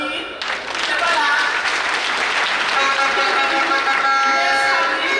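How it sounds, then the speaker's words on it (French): An audience at a Success Day event in Ouagadougou breaks into loud applause for a vice-president. The dense clapping swells in after a brief moment and holds steady, with voices and some tonal sounds mixed through it. "On peut l'applaudir."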